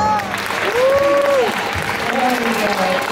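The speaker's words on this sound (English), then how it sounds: "maybe if you guys would just give him a little more applause" An audience at a wolf presentation applauds continuously and loudly, with a voice or tonal calls rising and falling through the clapping.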